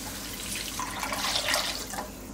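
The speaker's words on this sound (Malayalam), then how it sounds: "3 ഗ്ലാസ് അരിക്ക് 6 ഗ്ലാസ് വെള്ളം എന്നുള്ള രീതിയിൽ ഒഴിച്ചു കൊടുക്കാം" Water pours steadily into a cooking pot of rice for a couple of seconds, a continuous splashing rush with no voices.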